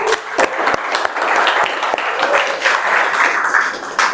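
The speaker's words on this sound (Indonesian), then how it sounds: "Tepuk tangan buat kita sendiri ya semuanya." A group applauds itself at a gathering, a steady crackle of many hands clapping throughout, with a few sharper individual claps standing out near the start and end.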